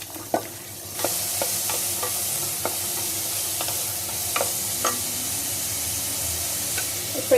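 Finely chopped onions added to hot oil with whole spices, frying in a pan for vegetable kurma, a loud continuous sizzle broken by occasional stirring clicks and scrapes.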